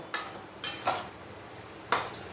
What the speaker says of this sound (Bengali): পটল দিয়ে ভালো করে মশলাটাকে মিশিয়ে নেব।